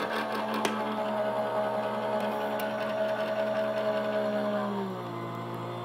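Gemini electric die-cutting machine pulling plastic plates and a shim through its rollers, a steady close motor whine with a gliding tone that drops and stops near the end.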